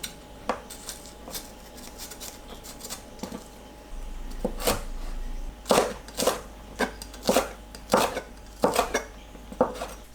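Knife chopping green onions thinly on a cutting board for cabbage and fish cake japchae, a run of sharp close taps that starts sparse and quickens into a steady rhythm.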